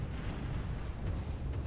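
Spaceship weapons firing during a fleet battle against battleships and cruisers in Stellaris, heard as a continuous dense low rumble of booms and blasts, steady and heavy throughout with no clear gaps.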